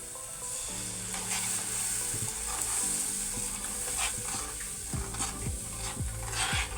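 Spice mixture hitting a hot pan while cooking pithla, a loud continuous sizzle and frying hiss with stirring scrapes and clinks of a utensil against the pan.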